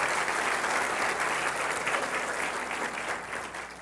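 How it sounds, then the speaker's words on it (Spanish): Steady, loud applause from a church congregation fills the whole stretch, a dense wash of clapping that eases slightly toward the end, with no talk over it. "Démosle un aplauso al Rey de Reyes y Señor de Señores, Jesucristo."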